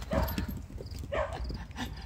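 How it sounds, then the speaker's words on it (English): Excited goats burst out of their pen with a rapid clatter of hooves on hard ground and a couple of sharp animal cries, close and busy throughout. "The goats have lost their minds."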